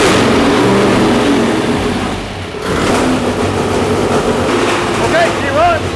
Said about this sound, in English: engine's all complete on the dyno, ready for our initial startup, so stick around, let's see if this thing starts